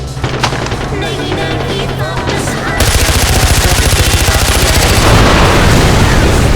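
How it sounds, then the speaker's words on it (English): A gun mounted beneath a car dashboard in Far Cry 4 opens up in rapid continuous automatic fire. Loud and close, it follows a stretch of driving and mixed noise, with the burst rhythm hammering steadily to the end. "There's a gun underneath the dashboard!"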